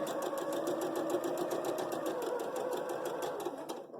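A sewing machine stitching quilt patches with a quarter-inch foot runs steadily and close, its needle pounding in a fast, even rhythm throughout before slowing at the end, with no talk.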